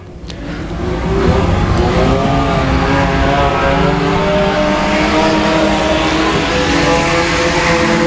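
Race cars lapping at Boothill Speedway with a Honda Accord leading, a loud continuous engine roar rising in the first second then holding steady as the pack drives past.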